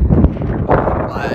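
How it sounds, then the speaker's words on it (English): Gusty wind buffets the microphone with a heavy low rumble, a voice briefly audible beneath the roar. "it's bloody windy"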